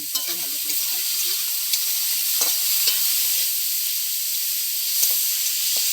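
Banana flower fries in a hot pan with cumin powder, a bright steady sizzle punctuated by scraping stirs at irregular intervals, close and loud.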